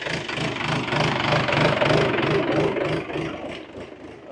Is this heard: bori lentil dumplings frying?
no